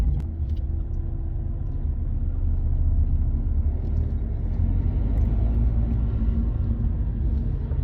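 A 2018 Dacia Sandero Stepway with the 1.5 dCi diesel and Easy-R automatic gearbox drives along, its steady low engine and road rumble heard from outside, constant in level, with no talk.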